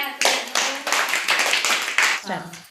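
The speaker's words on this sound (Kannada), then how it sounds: "ವೆರಿ ಗುಡ್ ಚಪ್ಪಾಳೆ ತಟ್ರಿ" Schoolchildren at a summer camp in a government primary school clap together in a quick rhythmic burst of about eight loud, close claps, with voices mixed in.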